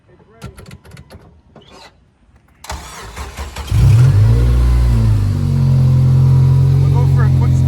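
An 8th gen Honda Civic Si engine cranks and starts, then revs loudly and steadily close by, preceded by clicks and handling sounds with voices talking.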